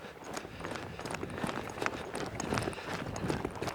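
A horse trots loose around an outdoor arena past barrels, its hooves beating a steady, quick clip-clop rhythm at moderate distance with no talking over it.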